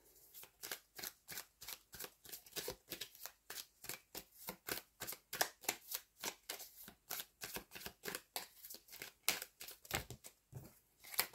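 Tarot cards are handled and shuffled in quick, rhythmic riffles, with crisp papery flicks repeating steadily and close up at a soft level and no talking.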